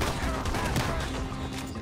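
A burst of rapid gunfire in Red Dead Redemption 2 story mode, dense overlapping shots filling the whole moment, loud and close.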